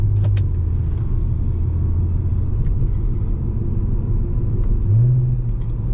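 Engine of a Volkswagen Golf MK5 R32 with a manual gearbox, a steady low rumble heard from inside the cabin, rising briefly in pitch during a downshift near the end, with no voices.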